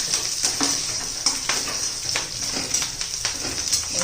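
Curry leaves go into tomato chutney frying in a pan, giving a steady close sizzle broken by soft scrapes and stirring clinks that recur every half second or so.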